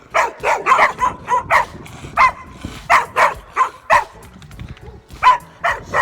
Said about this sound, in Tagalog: So yun po ang mga aso.